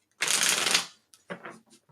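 Tarot cards riffle quickly in one long shuffle, followed by a few shorter soft flutters close by.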